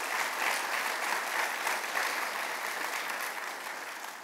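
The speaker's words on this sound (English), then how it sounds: "Let's give a round of applause to Counselor Gibbons." Steady, dense applause from a large audience at a Medal of Valor award ceremony honoring correctional staff, holding loud and even throughout before easing slightly at the end.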